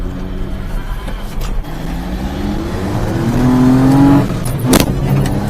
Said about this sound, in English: It's a Minitruck race.